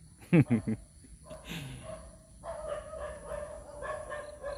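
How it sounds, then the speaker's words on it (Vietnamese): A dog barks at home during a New Year's Eve 2023 countdown, giving several sharp, loud barks early on, followed by quieter household noise with people talking in the background. "chó sủa quá"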